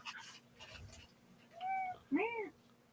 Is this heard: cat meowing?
yes